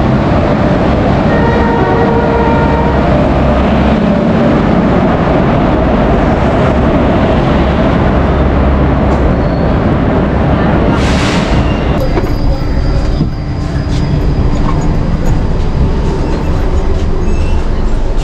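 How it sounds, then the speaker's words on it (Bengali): A train arriving at Malda Town railway station in India, a loud continuous rumble of wheels and carriages close by, with a brief hiss or horn-like burst partway through. "তো আর কিছুক্ষণের মধ্যেই ট্রেন চলে আসবে স্টেশনে"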